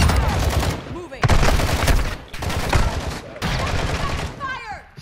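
Gunfire in the first-person shooter Call of Duty DMZ, rapid bursts of automatic weapon fire in loud, overlapping volleys with short gaps between them, with voices talking underneath.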